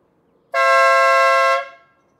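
An electric air horn fitted to a Ford Mustang gives one loud, steady, close blast of about a second, then cuts off with a short fading tail.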